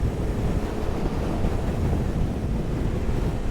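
Strong wind buffets a helmet-mounted camera on a motorcycle riding a hilly road past villages in Cappadocia, a loud, unbroken low roar that swamps everything else.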